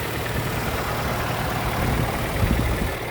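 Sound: Daewoo Sens 1.3 petrol engine idling

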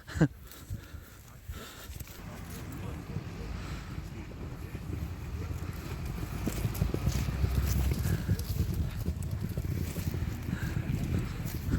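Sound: horses' hooves clip-clopping

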